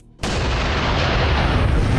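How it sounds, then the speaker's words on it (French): A large explosion destroying a floating platform, erupting after a brief quiet moment into a loud, sustained roaring blast that stays at full force to the end. "L'onde de pression créée par l'explosion a détruit la plateforme flottante"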